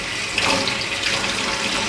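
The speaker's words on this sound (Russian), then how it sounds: "Сливаем воду." Water is poured off rinsed pike roe in a continuous splashing, gurgling stream, close and fairly loud, with no talk over it.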